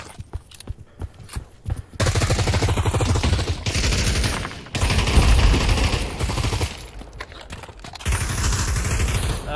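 Bursts of rapid machine gun fire in a video game, loud and sustained, broken by short pauses between long volleys, with no voices present.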